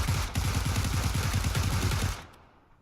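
Automatic gunfire from a weapon in the video game PUBG rattles in a fast, continuous burst of loud, close shots for about two seconds, then cuts off and fades.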